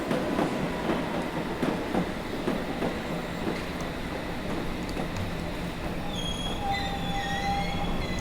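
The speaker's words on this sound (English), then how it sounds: "So we'll wait for this S-stop to arrive at Farringdon and then we'll depart." A London Underground S Stock train pulls into Farringdon station in the Train Simulator 2020 game: a steady rumble of wheels on rail with faint clicks, then rising high squeals of braking wheels near the end, with no talking.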